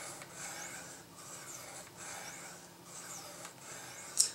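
An old Swiss Army knife blade is drawn along the rods of a Spyderco Tri-Angle Sharpmaker, making repeated rasping strokes at an even rhythm, close and fairly quiet, with one sharper scrape at the end.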